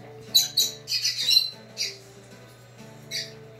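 Brown-headed parrot squawking close by: a cluster of sharp, harsh squawks in quick succession, then a pause and one more squawk, over a faint steady hum.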